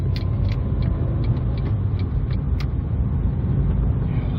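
A 2005 Ford Fiesta Mk VI 1.4 Zetec cruising on a dual carriageway, with a loud, steady engine and road rumble inside the cabin and faint regular ticking on top.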